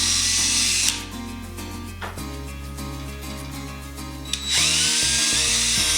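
A power drill bores holes through wood with a 3/4 inch spade bit, a loud steady whine that drops in pitch as the bit bites, then spins back up after about four seconds; no voices.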